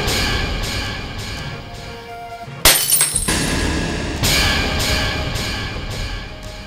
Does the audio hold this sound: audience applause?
no